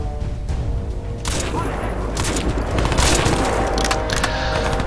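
A dense burst of rapid gunfire with overlapping booms in the video game Crysis 2, loud and continuous for several seconds, with a faint voice underneath.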